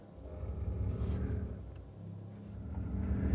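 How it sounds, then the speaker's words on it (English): A 2023 Mercedes-Benz EQE 500 4MATIC electric car plays its artificial roaring pulse sound while revving, a low synthetic rumble that swells, eases off, then builds again. "so people outside can also hear you rev your EV"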